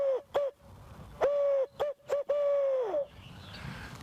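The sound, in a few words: hunter imitating owl call, who cooks for you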